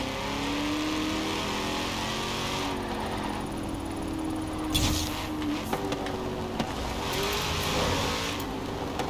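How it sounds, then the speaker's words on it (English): Camaro ZL1 1LE engine revving in Forza Horizon 4, a steady mid-pitched drone with rising and falling revs, exhaust gargle and a few sharp pops standing out near the end, loud and close with no talking. "it's got quite a nice note to it with some gargle noises coming from the exhaust and a few pops and bangs"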